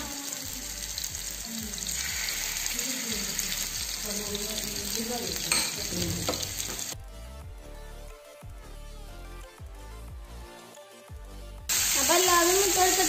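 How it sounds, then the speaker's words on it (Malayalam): Marinated chicken drops into hot coconut oil and fries with a loud bubbling sizzle, broken by clattering, a quieter stretch, then a stronger crackle near the end, with voices talking over it. "ഇനി ഞങ്ങൾ നേരത്തെ മാരിനേറ്റ് ചെയ്ത് വെച്ച ചിക്കൻ ഇതിലേക്ക് ഇട്ടെടുക്കാം."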